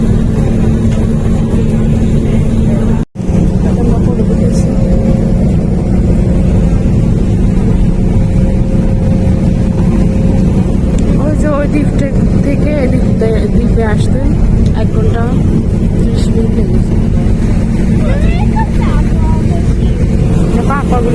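A boat engine drones loud and steady throughout as the boat turns, with a brief dropout early on and people talking over the rumble.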